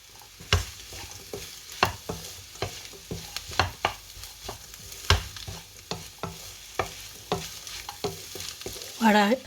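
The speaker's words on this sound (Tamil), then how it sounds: "பொரிச்ச உருளைக்கிழங்கு, கேரட், லீஸ் எல்லாத்தையும் கொட்டி விடுவான். கொட்டி ஒருக்கா கிளறுவேன் எல்லாம்." A spoon scrapes and clanks repeatedly through fried potatoes, carrots and leeks in a pan. The strokes come at an uneven rhythm over a low sizzle, close and fairly loud.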